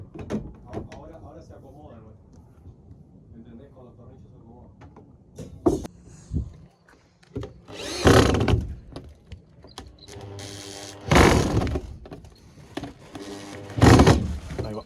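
A power drill drives screws while a lift-up window is fitted into a Kombi van conversion, giving three loud whirring bursts of a few seconds each. Before them come softer knocks and handling sounds, with people talking throughout.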